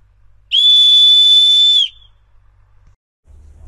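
An old metal whistle, dug up while metal detecting near an old church, is blown once in a loud, steady, piercing tone lasting over a second. Quiet rustling comes before and after it.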